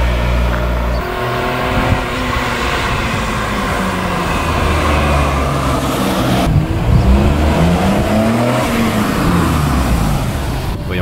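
A Maserati under restoration, with sluggish power and an odd idle note, hums steadily up close at idle, then rises and falls through a few revs before settling back.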